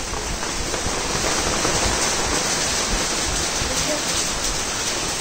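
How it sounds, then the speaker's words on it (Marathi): Steady heavy rain pours continuously around a hilltop temple site near Lonavala, a loud, even wash of noise filling the whole stretch with no break. "पावसाचा आवाज येत असेल तुम्हाला."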